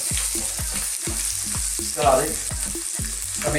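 Garlic ginger paste, fresh curry leaves and strips of ginger frying in a pan for a minced beef and potato curry, a steady close sizzle broken by regular stirring scrapes, with one louder spatter midway.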